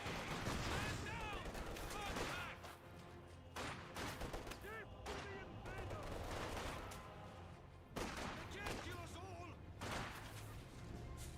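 Machine gun and rifle fire in Company of Heroes, repeated clattering bursts mixed with battle noise and distant explosions, with someone talking over it.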